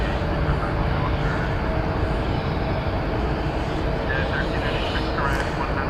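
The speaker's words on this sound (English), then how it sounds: "That A319 we saw, a 20th century plane coming in from Louisville." Airbus A319 airliner arriving at DFW Airport, its steady broadband engine roar sustained throughout at a moderate distance, with a voice talking faintly over it.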